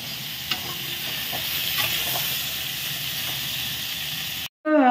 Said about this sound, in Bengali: এবার কপিটাকে ভালো করে ভেজে নেব